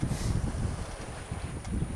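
Steady wind blowing over choppy sea seen from a sailboat cruising off Villefranche, waves running against the wind, a low continuous rush and buffeting close to the microphone.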